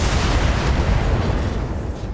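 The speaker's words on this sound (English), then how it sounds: "AC2 ammo destroyed. Excellent. Ammo explosion." An ammo explosion bursts on a mech in the video game Battletech, a loud, dense rumbling blast with low-end weight that stays heavy and continuous throughout.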